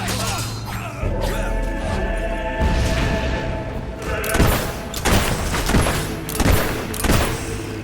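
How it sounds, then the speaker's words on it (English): Mortar fire in the fantasy action game Fable III: repeated heavy booms and thuds, several in the second half, over a dense layer of battle noise and music. "Can you take that mortar out? It's starting to annoy me."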